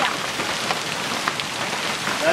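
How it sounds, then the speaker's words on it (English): Hail falling hard on a warm day, a dense steady patter of icy pellets striking surfaces close by, with sharper individual impacts scattered through the continuous roar. "I can't believe how strong it's hailing."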